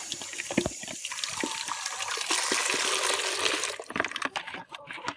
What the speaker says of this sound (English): And this net you can just remove and just turn the tap on.